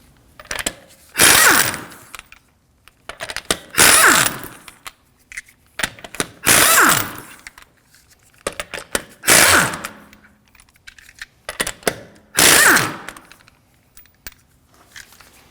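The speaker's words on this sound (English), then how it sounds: "To remove the wheels, we're going to be using a 19mm socket." A ratchet fitted with a 19mm socket loosens the lug nuts on a Subaru XV Crosstrek wheel in six loud, rapid bursts of clicking, each about a second long, separated by short quiet pauses.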